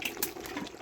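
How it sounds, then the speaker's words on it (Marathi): Water is poured into a pan of fried potatoes and chicken masala while cooking chicken pulao, a soft, close splashing trickle that runs quietly for under a second, with no talking. "आता त्यातला पाणी टाकले."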